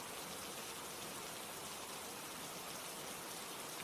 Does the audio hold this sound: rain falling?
yes